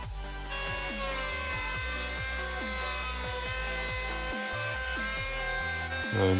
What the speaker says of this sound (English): now I'm scraping a line to cut with the jigsaw